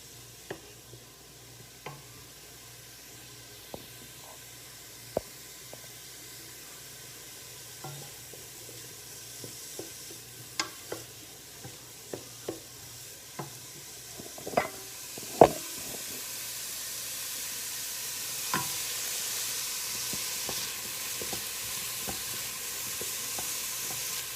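Garlic sizzles quietly in a pan for spaghetti sauce, a steady soft frying hiss with scattered light clicks and stirring scrapes, no talking.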